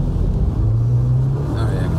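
2019 Jeep Wrangler with a 2.0-liter turbo engine accelerating from a stop and building boost, a steady low engine drone that rises in pitch as it pulls, heard from inside the cabin.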